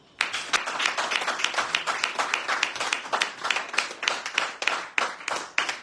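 Steady applause fills a radio show studio, many hands clapping close and dense in a continuous burst that carries on to the end.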